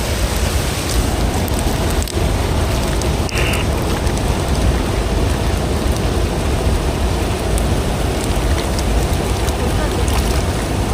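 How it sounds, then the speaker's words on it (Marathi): Heavy rain pours down steadily in a dense, constant roar that stays at the same strong level throughout, while fish are caught by hand. "पाऊस सुद्धा आहे ना परत एकदा जोराचा आलाय"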